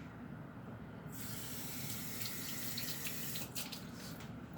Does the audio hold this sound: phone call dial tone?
no